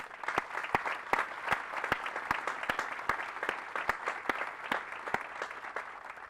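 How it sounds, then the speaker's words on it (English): An outdoor crowd at a military cadet graduation ceremony applauds a band and a field artillery battery, steady continuous clapping with distinct sharp claps standing out near the microphone. "Please join me in applauding their performance"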